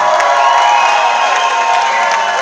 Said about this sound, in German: Applaus für den Stimmakrobaten aus Ost-Berlin.